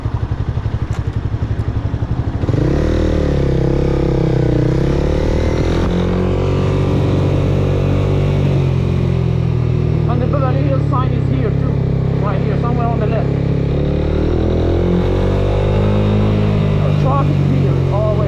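A motorcycle rides through Beverly Hills streets near Rodeo Drive, its engine droning loud and close, rising in pitch as it accelerates, then holding and shifting through a long continuous run with wind and traffic noise.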